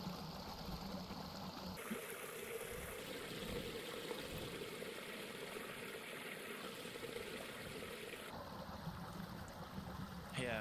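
Flowing water from a waterfall in a video game level, a constant rushing wash that stays steady throughout with abrupt shifts in tone as the view changes.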